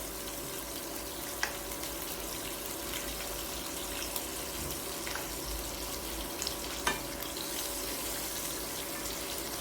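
Chicken fries in a pan with a steady, soft sizzle and crackle, with occasional faint clinks of stirring utensils.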